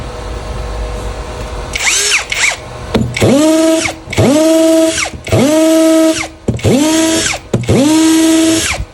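A power drill fitted with a hammer drill bit runs in five or six separate bursts, each spinning up to a loud, steady whine and then stopping, close by.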